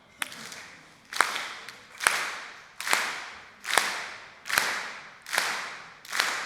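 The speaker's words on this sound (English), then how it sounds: "So let's get our clap going." A group claps along to a revolution-themed song, seven sharp, evenly spaced claps in a steady beat with each clap ringing briefly in the room.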